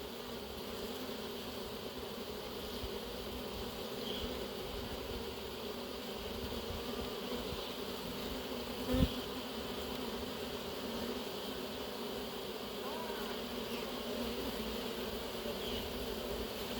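Bees crawl out of a cardboard package into a hive, producing a steady, close, sustained buzzing hum from many insects, with one brief knock midway and no voices.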